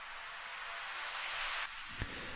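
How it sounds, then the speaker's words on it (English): A rising noise-sweep riser effect from a melodic techno track, a broad hiss building steadily for about a second and a half, then cutting off, followed by a short thump near the end. "Mainly I'm using here the riser"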